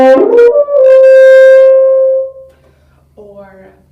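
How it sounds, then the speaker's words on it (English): A French horn plays a glissando, a rising smear that settles into a loud sustained tone and then fades. The horn sounds close and alone, and a fainter short note follows after a brief gap. "Some other extended techniques that you can use would be a gliss"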